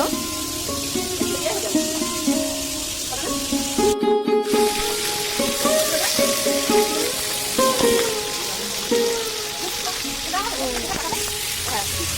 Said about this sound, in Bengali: মুড়ি ঘন্টর জন্য মাথাগুলো প্রথমে ভেজে নিচ্ছে মাছের মাথাগুলো দেখতে পাচ্ছ